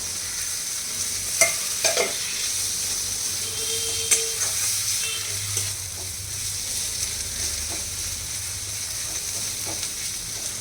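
Tomato goes into a pan of frying potato and cauliflower curry. A steady sizzle and hiss runs throughout, with a few scraping clinks of stirring early on and no talk.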